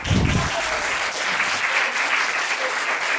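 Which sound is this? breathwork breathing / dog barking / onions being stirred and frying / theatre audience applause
theatre audience applause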